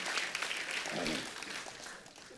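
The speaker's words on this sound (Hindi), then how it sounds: "एक बार जोरदार तालियां हो जाएं।" Applause from a TV comedy show studio audience, a dense rattle of clapping at moderate volume that thins slightly toward the end.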